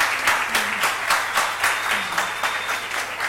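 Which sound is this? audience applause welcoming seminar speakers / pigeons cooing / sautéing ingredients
audience applause welcoming seminar speakers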